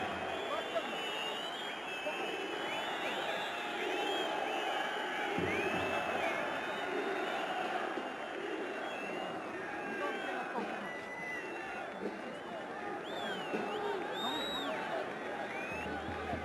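A football stadium crowd at an AFC Champions League Elite match between Pakhtakor and Al Hilal keeps up a steady, distant roar and cheering under continuous commentator talk.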